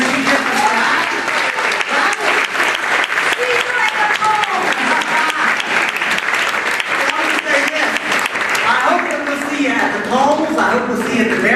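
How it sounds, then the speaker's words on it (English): Loud, sustained audience applause at a political speaking event in Asheville, a dense unbroken wash of clapping with cheers and voices mixed in throughout. "Can I get a round of applause for when she gets the shot?"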